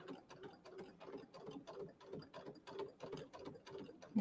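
Domestic sewing machine stitching slowly through quilting fabric over a pin, a steady run of close, rapid mechanical ticks and whirs, near and moderately loud, with no voices.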